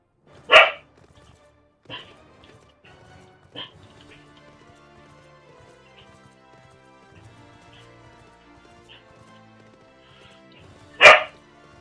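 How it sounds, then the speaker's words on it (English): A dog in Final Fantasy XIV barks a few times, sharp and isolated, with long gaps between barks over a faint, steady background. "you gotta stop the barking, girl."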